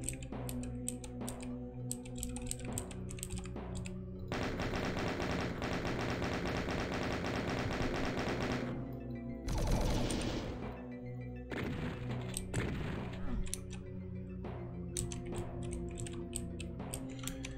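Gunfire in the Zeramida video game: rapid repeated shots in clustered bursts, with long sustained stretches of dense rattling fire over a droning game soundtrack, fairly close and loud.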